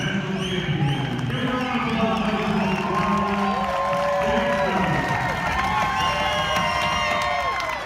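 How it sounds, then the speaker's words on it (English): Spectators at a US national championship track cycling sprint cheer for the newly crowned champion, a loud, sustained roar of shouting and whooping voices with some clapping, filling the whole stretch. "Nice cheering section up there for James."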